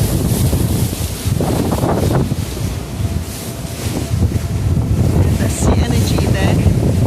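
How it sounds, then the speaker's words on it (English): Wind roars loud and steady across the microphone on a small fast boat heading for a marina near Gothenburg, Sweden, with water rush and engine rumble underneath and faint voices mixed in. "So a small boat can be very windy."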